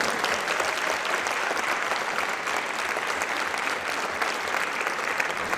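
An audience at a wind orchestra tournament awards ceremony gives steady, full applause for sponsors, a dense, even roar of many hands clapping that holds at a constant loud level throughout.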